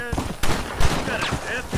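Shots ring out in the Red Dead Redemption video game on PS3 during horseback riding, a few loud sharp bangs in quick succession over a dense game soundscape with some voice.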